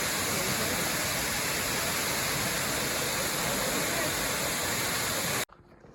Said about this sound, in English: There's several small little waterfalls like this, more like showers throughout the whole canyon.